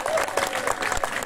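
Crowd applause at a karaoke night in Alanya, a dense, steady patter of clapping with crowd noise and a sustained musical tone beneath it, nobody speaking.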